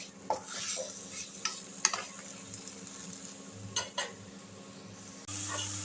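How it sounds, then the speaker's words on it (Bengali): Orange chutney with sugar, cashews and raisins is stirred in a pan over a low flame: a soft sizzle runs underneath a few close spoon scrapes and clinks against the pan, with no one speaking. "চিনি আর কাজু কিশমিশ দিয়ে লেবুগুলোকে আমি লো ফ্লেমে আর একটু নাড়াচাড়া করে নিচ্ছি।"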